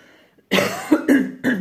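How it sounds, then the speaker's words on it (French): A few harsh coughs in quick succession, close and loud, after a brief quiet moment; no speech. "excusez-moi, vraiment, hein, de tousser comme ça"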